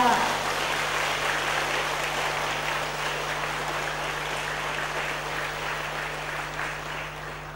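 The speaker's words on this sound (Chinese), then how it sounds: "可以掌声了。" Audience applause fills a Buddhist lecture hall, a dense, steady clapping that carries loudly from start to finish and eases off slightly near the end.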